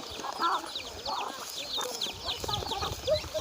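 On a small farm raising chickens and ducks for sale, chickens cluck in a dense, continuous chorus of overlapping calls, mostly nearby with a few louder squawks rising above the rest.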